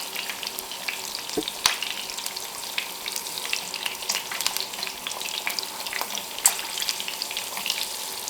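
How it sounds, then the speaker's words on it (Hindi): Masala for nargisi kofta fries in a hot pan, a continuous close sizzle and crackle with scattered sharp pops and occasional clinks, with no talking. "देखिए ये अच्छे से फ्राई हो रहा है, खुशबू बहुत ज़बरदस्त आ रही है, तड़ाके भी लगने लगे हैं।"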